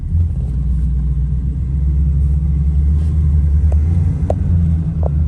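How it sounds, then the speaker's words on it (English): A 1966 Ford Thunderbird cruises slowly around the block, heard from inside as a low, steady engine rumble with road noise and a few faint clicks. "Let's go ahead and take for just a quick little drive around the block here."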